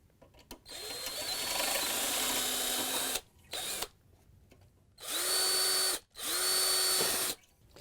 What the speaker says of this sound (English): They're riveted in place, so we have to drill them out